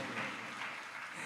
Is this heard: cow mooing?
no